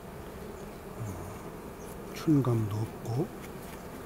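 Honeybees buzz steadily inside a hive during spring inspection, a soft, continuous hum close by, while someone speaks briefly over it.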